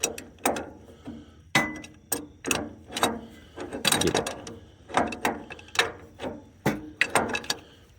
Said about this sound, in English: I can't get a socket on, so we got a big old wrench